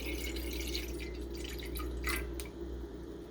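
Aloe vera juice pours into a cooking pot, a faint, steady liquid trickle with a few light splashes and drips, quiet and close.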